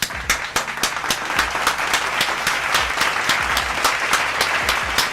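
A man claps along to canned applause from a crowd. The dense, steady clapping is loud and continuous, with a few sharper hand claps standing out at the start.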